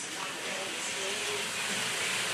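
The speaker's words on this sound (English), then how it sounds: "time to add in the green salsa." Green salsa hits a hot pot of green chicken chili, giving a steady, close hissing sizzle that fills the whole moment without pause.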